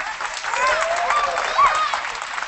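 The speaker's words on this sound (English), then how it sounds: "So we have a real Elena kind of applause there too" Applause for a middle school clarinet player at a high school winter concert rises and carries on steadily, with faint overlapping chatter and a few tonal traces running beneath the clapping.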